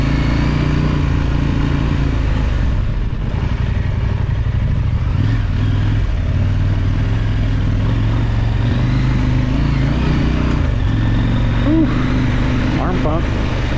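A KOVE 800X Rally or KTM 890 Adventure R Rally adventure motorcycle riding through desert with the clutch being slipped, its engine droning loud and steady with shifting pitch and rattling, mixed with heavy wind buffeting.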